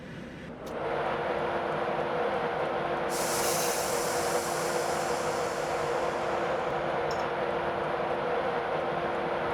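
Class 91 electric train departing Newcastle on the East Coast Main Line in Train Simulator 2016; a steady, loud rolling rumble with a constant motor whine, rising hiss midway, and no talking.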